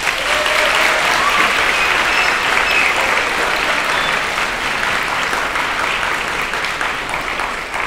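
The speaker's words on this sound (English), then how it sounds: "So let's give them a round of applause." Audience at a Benton Middle School choir concert applauds in a loud, dense, sustained burst of many hands clapping that holds steady throughout.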